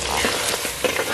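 Fenugreek, cumin and mustard seeds sizzling in hot groundnut oil in a clay pot, a dense steady crackling hiss with a few brief pops, close and continuous.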